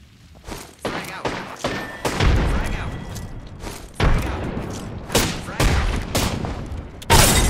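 Frag grenade blasts and gunfire crack through an Apex Legends firefight: repeated loud, sharp bursts with deep booming tails, separated by short gaps, with team callouts spoken over the action.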